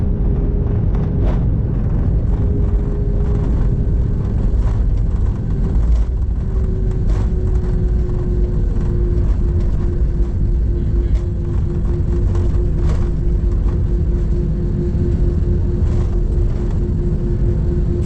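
Airliner cabin during landing at Bangkok's Suvarnabhumi Airport, with a loud, constant low rumble, a steady engine drone, and scattered small knocks and jolts.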